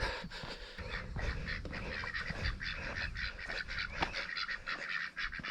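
Outdoors beside a footpath along a country road, a group of ducks quacks repeatedly at close range, their calls overlapping in a busy, continuous chatter.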